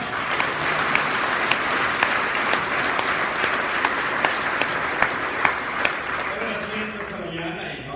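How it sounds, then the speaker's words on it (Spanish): A church congregation at a Christian fellowship service bursts into sustained applause, a dense steady wash of clapping from many hands with a few louder claps standing out, fading near the end. "Un fuerte aplauso al Señor."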